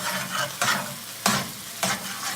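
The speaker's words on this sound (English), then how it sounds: "Just add it in a little bit at a time and stir it in." A chili sauce mixture is stirred into ground turkey browning in a pan, giving a soft steady sizzle with scraping stirs and three louder splashy bursts as sauce is added.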